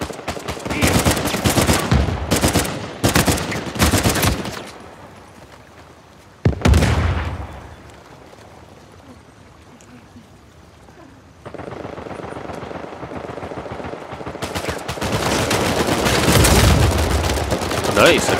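FAL rifle in Uncharted 4 multiplayer fires loud, rapid bursts, then falls quiet for several seconds before dense gunfire resumes, with a voice speaking at times over the shooting.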